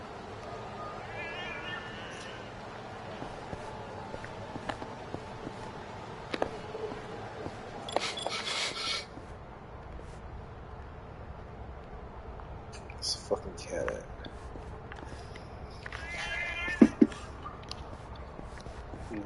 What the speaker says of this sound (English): I hear the cat now.